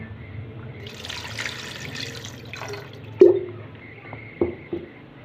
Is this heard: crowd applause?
no